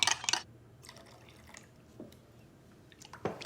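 Equal parts instant coffee and water being poured for a latte mixture, with a bright splash at the start, then scattered small drips and liquid trickles, close and fairly quiet.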